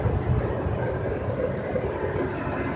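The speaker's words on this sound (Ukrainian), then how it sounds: "з лівої сторони йде поїзд, багато контейнерів" A long freight train loaded with many containers rolls past beside the Colorado River, a steady low rumble of wagons at moderate distance with no voices.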